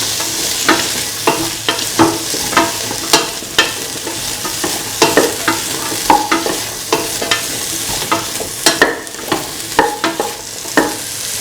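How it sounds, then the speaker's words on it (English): Mung beans, ivy gourd and rice being sautéed and mixed in a pan, with a steady sizzle under repeated scraping stirs that land roughly every half second, close and loud. "Thoroughly saute and mix."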